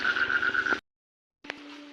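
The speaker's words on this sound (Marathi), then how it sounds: "एकावरती एक बेडूक आहे." Frogs croaking in a village, a close, loud, buzzy trilling call that breaks off, then a lower, steadier croak resumes after a short silence.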